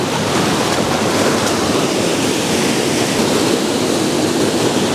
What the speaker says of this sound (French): J'espère que le son de la magnifique cascade qui est derrière moi